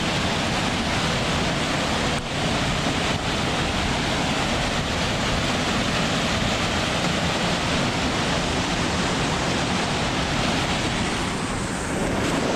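A big mountain waterfall in Spiti Valley near Lari village pours in a constant loud roaring rush that fills the whole stretch, with no talking.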